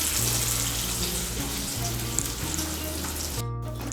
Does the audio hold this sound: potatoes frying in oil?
yes